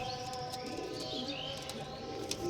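Several big breeder pigeons make soft, rolling coos near the listener in a loft, low and steady, with faint chirps and a brief flutter near the end.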